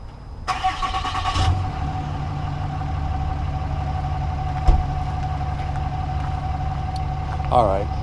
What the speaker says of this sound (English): Let me start my truck.